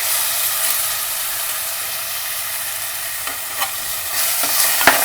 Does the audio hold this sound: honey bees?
no